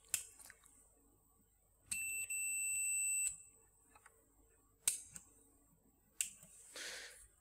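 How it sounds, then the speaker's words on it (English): A multimeter in a simple set-reset circuit demonstration gives a sustained high electronic tone lasting over a second, set among several sharp clicks and snaps in a quiet room. "the multimeter is beeping because the output's cleared"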